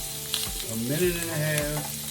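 Shrimp sautéing in a pan give off a steady close sizzle, with harmonic tones sliding underneath and a voice talking over the frying.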